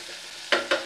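Potatoes and soybean chunks are sautéed in a pan over a faint sizzle, broken by two quick, loud scraping strokes of a spatula close by.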